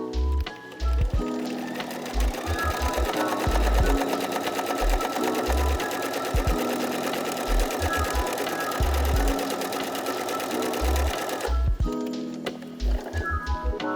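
A sewing machine runs steadily, stitching parallel rows to shirr fabric, its rapid mechanical whir close and loud. Brief pauses and restarts break the run, and no one speaks.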